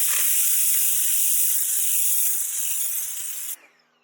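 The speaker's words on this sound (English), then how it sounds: "If you want to clean your concrete, you can grab the 0-degree nozzle." An ANYKIT electric pressure washer fires a strong spray through a 0-degree nozzle, a loud steady hiss that holds for over three seconds, fades slightly, then cuts off abruptly.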